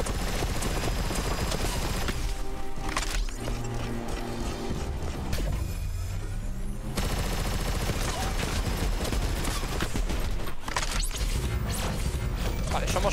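Rapid bursts of video game gunfire and explosions in Agents Biohunters crackle densely throughout, with a brief lull in the middle before heavy shooting resumes.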